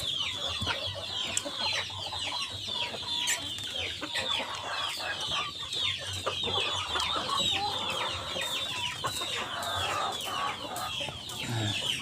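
KUB hens cluck steadily inside a colony cage, with many overlapping calls and occasional crowing from a rooster in a busy, continuous farmyard chorus, no talking.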